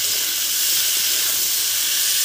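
Diced potatoes sizzle in hot oil with chilli and nigella seeds for a Bengali cauliflower-potato posto, giving a loud, steady, close frying hiss with no talking.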